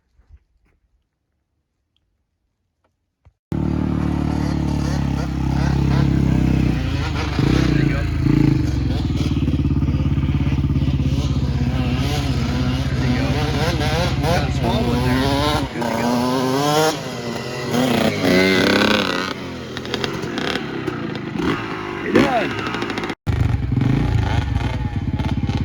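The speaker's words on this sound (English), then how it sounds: "I'm going to put my seatbelt on and hit the gas and go back twice as fast as I came" An off-road vehicle with seatbelts on a rough horse-and-motorcycle trail, starting after a few seconds of silence and then revving loudly up and down as it accelerates, rattling and jostling close by.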